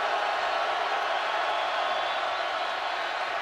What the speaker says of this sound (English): loud noise from the sellout crowd